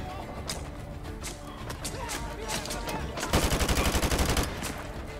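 Gunfire in Modern Warfare 2 Remastered, with bursts of shots throughout and a rapid, loud automatic volley in the last two seconds, heard under game sounds and background voices.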